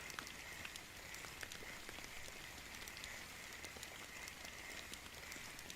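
Steady rain falling in the fishing video game Fishing Planet, a faint, even hiss of drops pattering on water and surfaces, continuous and without any voices.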